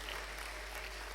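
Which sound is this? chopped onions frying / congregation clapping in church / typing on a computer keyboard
congregation clapping in church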